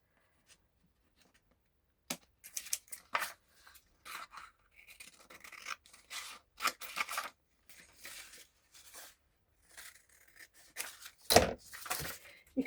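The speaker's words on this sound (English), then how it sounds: "And then I'll cut that out, and then I'll round the corners on that as well." Scissors cutting paper for a travel junk journal, close snipping and sliding strokes in irregular bursts after a quiet start, one sharper snip near the end.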